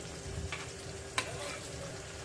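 Chopped tomato is stirred into fish frying in a pan for a Maharashtrian Agri-style fish recipe, a steady sizzle under a couple of scraping spoon strokes, close and with no talk.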